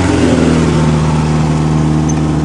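Engine of a 1961 Ford Anglia running steadily close by, a continuous mid-pitched motor drone with slight revving swells throughout, on a cold start at a farm.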